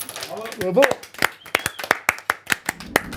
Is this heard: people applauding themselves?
yes